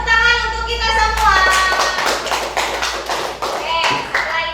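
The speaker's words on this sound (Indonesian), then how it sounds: "beri tepuk tangan untuk kita semua" Classroom applause from pupils, a steady run of hand claps lasting several seconds, mixed with children's voices and chatter throughout.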